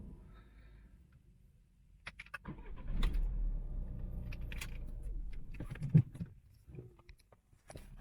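A Citroën C4 2.0 diesel with a fault starts after the ignition is switched on: a key click, a cranking engine catching, then a low idle with small knocks, heard fairly close and quiet, with no talk.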